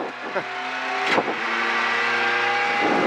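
A Ford Fiesta WRC rally car accelerates on a wet stage at Tankodrom Milovice during Rally Bohemia, heard from inside as a loud, steadily rising engine drone with a couple of brief thumps.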